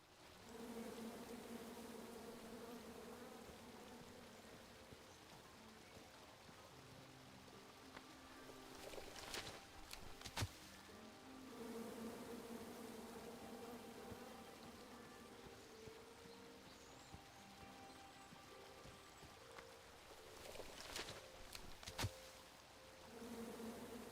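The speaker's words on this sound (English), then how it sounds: "And then you chop down the tree full of angry bees?" Swarm of angry bees buzzing in the King's Quest video game, a steady droning hum that runs throughout with a few sharper bursts, loud and close with no talking.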